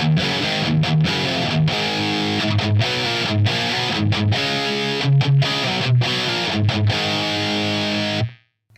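Electric guitar played through an amplifier's distortion channel with a Tube Screamer pedal switched off, chugging palm-muted riffs and sustained chords with short rhythmic breaks, loud and close, ending in a sudden cutoff.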